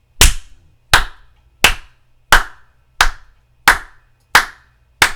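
Body percussion made by striking the fingers of one hand against the other palm, giving eight sharp, evenly spaced claps at a steady pulse, close and clear, with silence between strikes.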